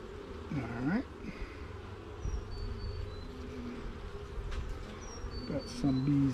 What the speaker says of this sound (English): Got some bees buzzing me